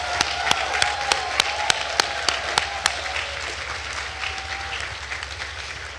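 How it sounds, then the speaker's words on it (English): An audience at a natural sciences commencement ceremony applauds graduating students, a moderate wash of clapping with a few sharp, distinct claps standing out in the first half before the sound settles and fades. "please join me in a round of applause to recognize these accomplishments of these students"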